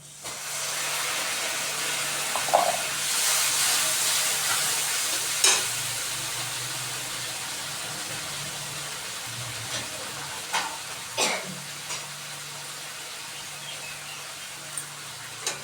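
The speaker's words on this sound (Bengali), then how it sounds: "আদা রসুন পেস্ট দিয়ে দিয়েছি, দিয়ে এবার কষানো হচ্ছে" Ginger garlic paste sizzles steadily in a hot pan as it is sautéed, a continuous loud frying hiss with occasional scrapes and clinks of a spoon stirring it, no voice.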